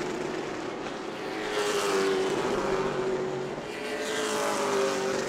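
Stock race cars battle at New Smyrna, their engines a loud, droning roar that swells and fades as the pack sweeps past in the distance off a corner.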